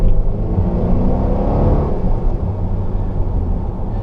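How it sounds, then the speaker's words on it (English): A 2016 Volvo XC90 T6 R-Design with supercharged and turbocharged engine accelerating, a loud close low rumble and whir that swells and surges steadily throughout. "When you let the supercharger and turbochargers take over together, it seems to want to flex its muscles a little bit better than always giving it the guns."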